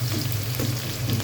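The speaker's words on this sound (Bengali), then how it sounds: "পেঁয়াজ কুচি আর কাঁচামরিচটা একসাথে ভেজে নেব।" Chopped onion and green chili fry in a pan with a steady, close sizzle, a brief, continuous crackling hiss with no voices.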